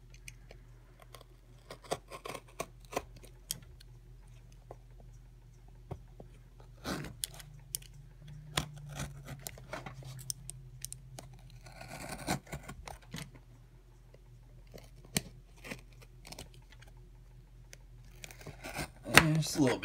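A cutter blade slices through packing tape on a heavily taped package, giving scattered sharp clicks, scrapes and crackles close by amid quiet handling noise.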